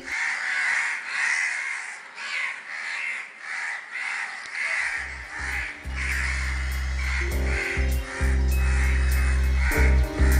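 Crows caw loudly in a rhythmic series of harsh calls, later joined by a deep sustained droning tone underneath.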